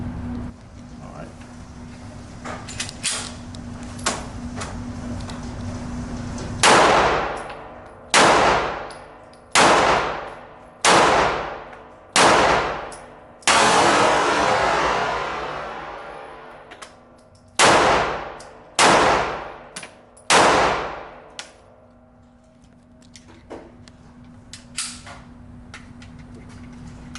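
Pistol shots from a S&W Shield Plus Carry Comp at a shooting range, about ten sharp, loud reports in spaced bursts with ringing tails, a long hissing stretch midway, and faint background chatter.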